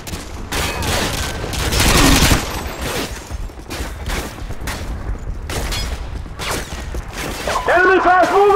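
Sustained loud gunfire from Call of Duty Modern Warfare 2, dense automatic bursts and booming blasts in a battle scene, with radio-style voices calling out between the shots.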